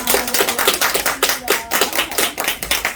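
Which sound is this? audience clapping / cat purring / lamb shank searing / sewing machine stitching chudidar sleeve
audience clapping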